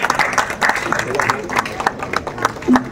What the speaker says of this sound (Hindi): जोर तालियों के साथ उनका